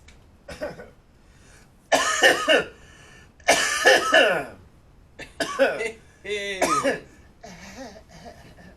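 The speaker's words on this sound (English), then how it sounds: "cut out the audio of just your coughing and have it on a track" Several bursts of harsh coughing and throat clearing, loud and close, scattered among stretches of conversational talk between podcast hosts.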